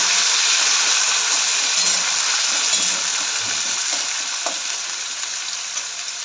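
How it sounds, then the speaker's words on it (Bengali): Onions sizzle steadily in hot oil as they fry to a deep brown for birista, a dense and even crackle close by, with no one talking. "পেঁয়াজটা দিয়ে দিয়েছি তেলের মধ্যে, এবার একটু লাল লাল করে ভেজে নেব।"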